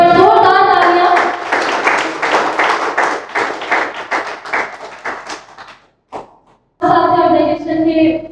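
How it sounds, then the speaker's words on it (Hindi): Audience at a felicitation program for Corona Warriors clapping in a short, uneven burst of close, loud handclaps that thins into scattered claps, then a brief pause before a voice speaks over it. "एक बार जोरदार तालियां"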